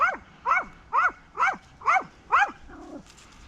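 A dog barks six times in a steady rhythm, moderately loud, followed by a softer whimper-like sound.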